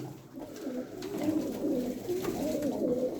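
Several pigeons coo in a loft, soft overlapping burbling calls running steadily throughout at moderate distance with no voices.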